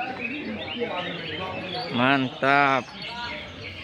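Cucak ijo (greater green leafbird) singing at a songbird contest, two strong clear whistled phrases rising above a noisy crowd with someone speaking briefly.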